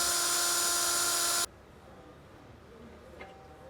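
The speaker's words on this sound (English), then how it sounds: "we're going to tighten down our clamps good and start drilling some holes" A loud, steady high-pitched drill whine runs for about a second and a half, drilling holes in metal for skid plates on a Chevy Express 4x4 van, then cuts off abruptly, leaving quiet room noise.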